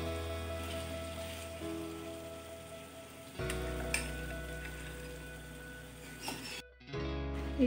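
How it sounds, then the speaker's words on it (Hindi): Chicken pieces hit a pan of cooked tomatoes for garlic chicken, giving a steady close sizzle that jumps louder partway through, then dips briefly before carrying on. "टमाटर भी अच्छे से पक गए हैं तो अभी हम इसमें चिकन ऐड करेंगे।"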